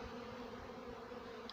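A honey bee swarm buzzing steadily at a hive while being introduced onto a frame of open brood, a continuous low droning hum that holds even and close throughout, with no voices.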